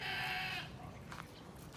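Goats on a farm calling to their young, a loud close bleat followed by a fainter call over low background noise.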